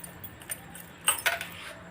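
Ignition key slid into a motorcycle's keyhole after a carburetor cleaning, a few quick metallic jingles and clicks close by, bunched near the end with a faint background hum.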